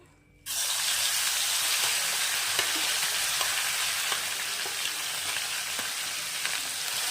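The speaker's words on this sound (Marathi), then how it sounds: "परतून घ्यायचं वाटणाला छान असं परतून घ्यायचं आहे तेल सुटेपर्यंत" Ground masala paste for a spicy village-style brinjal curry hits hot oil with a sudden loud sizzle that keeps up as a steady, close frying hiss, with faint scrapes of stirring.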